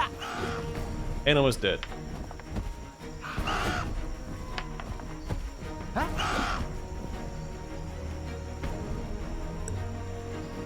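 Giant crow in the video game Solasta: Lost Valley, a few loud harsh caws amid game sound effects and ambient hum, with someone talking over them.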